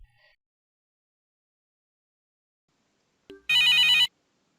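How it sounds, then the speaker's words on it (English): An incoming-call ring from a SAP Service Cloud CTI widget sounds once as a short, bright electronic burst after a tiny click, alone in silence. "I notice that there is an incoming call notification on the CTI widget"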